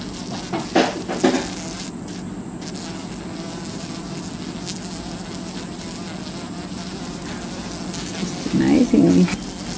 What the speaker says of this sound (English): these little native bees just started to attack it because obviously they didn't like it near their hive